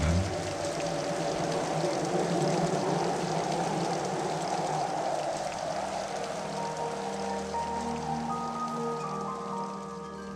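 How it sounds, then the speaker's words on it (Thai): Steady rain hisses throughout as a dense, even wash, with soft sustained musical tones underneath and no voices. "ฝนโบกขอรพัดนี้ มิใช่ว่าจะตกท่ามกลางที่ประชุม แห่งพระประยุรญาติในครั้งนี้เท่านั้น"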